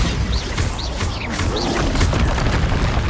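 Bombarda spell explosion during a troll fight in Hogwarts Legacy, a loud booming blast within dense, continuous game noise, with whooshing effects layered over the rumble.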